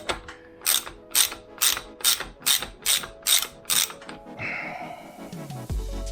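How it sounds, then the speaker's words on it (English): A 32 mm socket on a ratchet undoes the air cap of a Fox 38 mountain bike fork, giving about eight crisp, evenly spaced clicks close up, then a short metallic rattle and a scrape. "I've just got a normal 32 socket, which will still do the job, but you've got to be careful. Stick it on there and undo the air cap."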